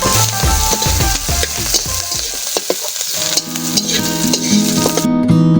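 Chopped chilli, onion and garlic sizzling loudly in hot oil in a wok, with busy crackling and a few metallic stirring clinks, while music plays throughout.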